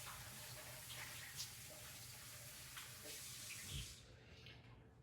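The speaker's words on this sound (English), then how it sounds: "we'll take just a brief minute to wash our hands" Water runs steadily from a kitchen tap during handwashing while cooking, a faint continuous splashing hiss with a small clunk near the end before it cuts off.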